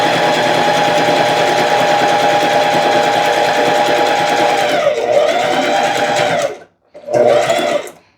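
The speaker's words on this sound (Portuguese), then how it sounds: "A gente vai continuar a costura até passar um pouquinho dessa marcação aqui" A sewing machine stitches a placemat seam, a loud, close, rapid whirring run that slows near the end, stops for a moment, then starts again in a short final burst.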